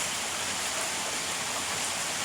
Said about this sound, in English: Hope you can hear over the rain. God bless this rain.